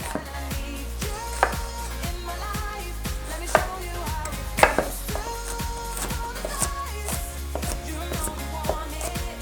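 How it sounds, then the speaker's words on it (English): A knife chops onions small on a cutting board, many sharp knocks in a quick, uneven rhythm, close and distinct, with no talking. "I want the onions chopped small because this is all going to be part of our filling"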